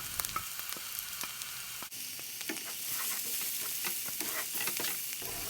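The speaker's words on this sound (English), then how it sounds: "Then add all the ground spices and fry for about 2 minutes." Ground spices frying in hot oil in a pan with green chilies for an aubergine curry (baingan ka bharta), a steady close sizzle with stirring scrapes and crackles throughout.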